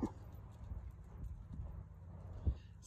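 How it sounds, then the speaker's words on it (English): Horses walking on a soft surface in a horse show class, hooves thudding in a steady, loose rhythm, fairly faint with a low background rumble. "Walk, walk your horses, please,"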